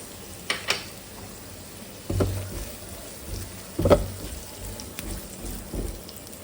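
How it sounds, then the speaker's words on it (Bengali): Whole garam masala spices fry in hot oil for chicken korma, a soft steady sizzle broken by a few louder spatters and scraping stirs, close up with no talking. "গরম মশলাগুলো ঢেলে এবার সামান্য একটু ভেজে নিচ্ছি কয়েক সেকেন্ড"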